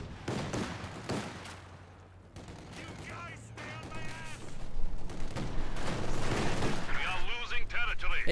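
Heavy machine gun fire in a competitive match of The Finals, sounding as bursts of loud, dense shots mixed with other gunfire and explosions, under excited commentary.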